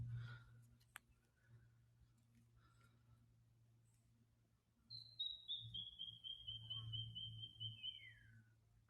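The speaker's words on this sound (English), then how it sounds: "Did you hear those two bird calls?" Spring bushland with a faint chirp early on, then a clear, high descending whistled bird call lasting a few seconds over low background rumble.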